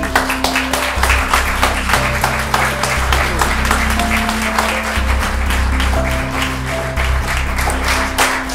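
A crowd applauds workers at a factory warehouse full of modules, a loud dense burst of clapping that holds steady over a sustained low musical tone playing underneath.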